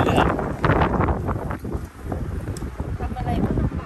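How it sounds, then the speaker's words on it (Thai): Strong desert wind in Death Valley National Park buffets the microphone as a continuous loud roar with rising and falling gusts. "เมื่อคืนนี่ลมแรงเนี่ยดูดิลมแรงเนี่ย"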